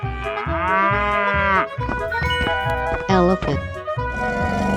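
Cow in a 3D animal video game, a long, drawn-out moo rising and falling, followed by game jingles and effects.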